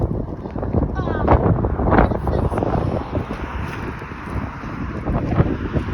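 Strong wind buffets the microphone in a constant roaring rush, with faint voices beneath it.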